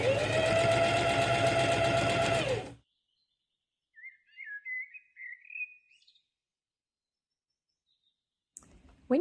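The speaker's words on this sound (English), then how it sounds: "we're going to sew all the way down each of the 2 side" A sewing machine stitching the side seam of a market tote bag runs in a steady, close, rapid whir for a few seconds, then stops; faint squeaky chirps follow, and a short clunk sounds at the end.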